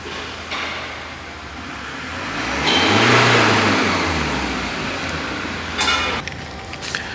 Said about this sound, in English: it didn't sound too bad when he just was doing the revving for the emissions